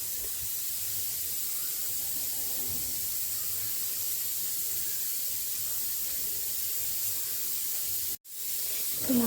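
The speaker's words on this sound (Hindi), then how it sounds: "मैंने सारे मसाले डाल के अच्छे से भून के फिर इसमें अरबी की सब्ज़ी डाल के इसको भी फ्राई करने रख दिया है" Spice masala fries in a pan for taro (arbi) curry, giving a soft, steady sizzling hiss with no speech, briefly interrupted near the end.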